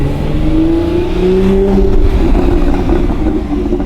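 A Porsche engine revs steadily and loud, its rumbling exhaust droning with rising tones; no distinct crackling pops stand out.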